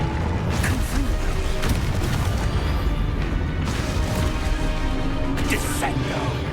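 Confringo fire-blast spell in Hogwarts Legacy, played on Nintendo Switch 2: a dense, continuous run of crashes and booming impacts fills the whole stretch, loud and close, with a voice speaking over parts of it.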